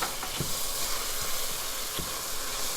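Tomatoes hit a hot pot with onions and garlic and sizzle steadily, a close, even frying hiss with a few soft clinks of stirring underneath.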